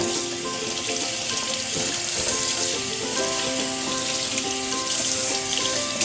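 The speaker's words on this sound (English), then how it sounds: "These guys we're going to have to rinse real quick, get rid of any remaining scum." Beef tendons rinsed under a running kitchen tap while making beef noodle soup, a steady close hiss of water splashing into a sink that fills the whole stretch without talk.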